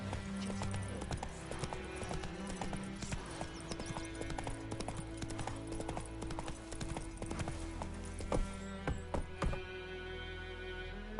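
Horse hooves gallop in The Witcher 3, a steady rapid clip-clop running under continuous game music and ambience, with a few louder hoof thuds near the end.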